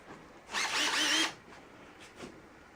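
A power drill fitted with a quarter-inch nut driver drives a fastener on garage door parts, giving one loud whirring burst of under a second, then faint brief clicks and handling noises.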